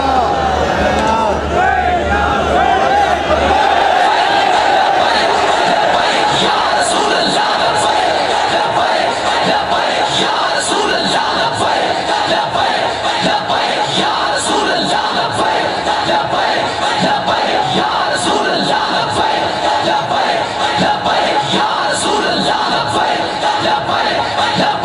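A large crowd at a Muslim religious gathering shouts and chants slogans, a loud, continuous roar of many voices that fills the whole stretch, with a single voice speaking over the din.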